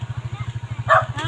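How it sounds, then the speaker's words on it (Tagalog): A dog barks fast and repeatedly, a close series of short, rhythmic woofs, with a brief voice cutting in near the end. "May aso."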